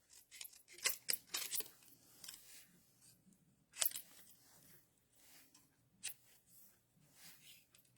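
Scissors snip through paper in quick clusters of crisp cuts, close and fairly quiet, with short pauses between bursts.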